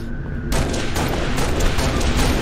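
Heavy gunfire in an online multiplayer shooter video game, a loud dense burst of rapid shots and booming impacts erupting suddenly after a quieter moment and continuing.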